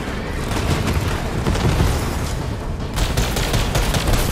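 Sentry turret in Borderlands 3 firing continuous bursts of gunfire amid booms and explosions, loud and dense throughout with no pauses.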